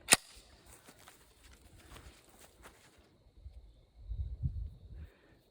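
The bolt of a Mac-11 pistol is pulled back with a single sharp metallic click right at the start, followed by faint handling rustles and a low, muffled thump.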